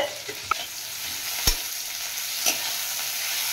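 Food spiced with salt and turmeric frying in hot oil, with a steady sizzle and a few sharp spoon taps on the pan, close by and without speech.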